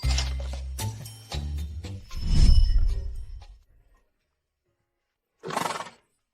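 A horse whinnies loudly and close by, then after a short silence another brief neigh sounds out.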